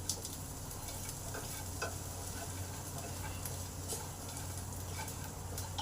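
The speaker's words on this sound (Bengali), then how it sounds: "এক মুঠো বাদাম দিয়ে দিলাম, এক মুঠো ছোলা দিয়ে দিলাম। ভালো করে নেড়ে নিলাম।" Peanuts and chickpeas, with coconut and onion, are stirred in a frying pan, giving a faint, steady sizzle with scattered small ticks and scrapes throughout, near and quiet.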